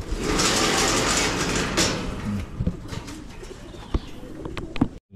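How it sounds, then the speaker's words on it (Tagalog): Pigeons at a farm give low, repeated cooing calls over a busy background wash that fades midway, leaving several distinct close coos and small rustles toward the end. "Ibon."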